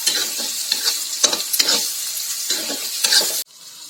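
Onion, tomato and green chili sauté in a pan for paneer bhurji, with close, repeated stirring scrapes over a continuous sizzle that cut off abruptly near the end.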